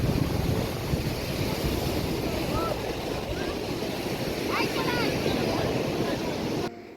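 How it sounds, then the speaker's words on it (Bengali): Sea waves washing onto Shankarpur beach at night, a continuous roaring surf with wind buffeting the microphone and faint voices in the background, ending with a sudden cutoff. "রাত্রিরের সমুদ্র"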